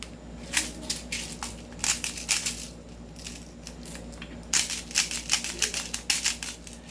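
0.20 gram BBs being loaded into an airsoft pistol, with repeated bursts of small plastic pellets rattling and clicking into the magazine in uneven clusters over a low steady hum.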